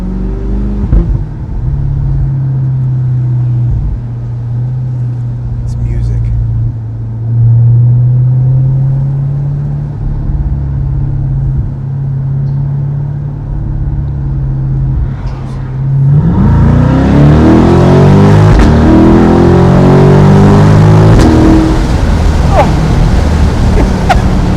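A C8 Corvette with an AWE touring exhaust holds a steady low drone, then revs hard and accelerates near the end, the note rising into a loud, rough roar with wind rush.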